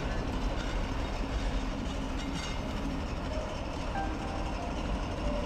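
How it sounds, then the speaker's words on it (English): A train pulls into a station, a steady broadband rumble of rolling wheels and carriage noise holding at an even level throughout with no talking. "Looks like this is us. Train's here!"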